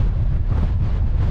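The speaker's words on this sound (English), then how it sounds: "Windy, cloudy open moor." Strong wind buffets the microphone on an open, cloudy moor in the Brecon Beacons, a loud, continuous low rumble with gusty swells and no voices.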